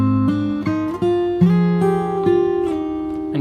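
Fingerstyle acoustic guitar playing a passage, with plucked notes and slides ringing over one another, bright and close, loud and continuous.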